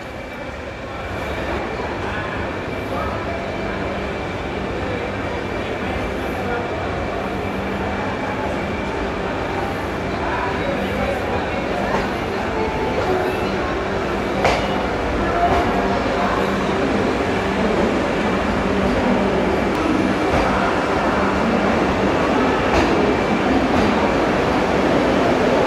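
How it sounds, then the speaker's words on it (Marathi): Saffron-coloured Vande Bharat Express train at Pune railway station, a loud, steady rumble with a broad mechanical drone that swells slightly over time, with faint clicks and no clear speech. "यावेळेस भगव्या रंगाच्या वंदे भारतने पुणे ते कोल्हापूर असा आपण आज प्रवास करणार आहे."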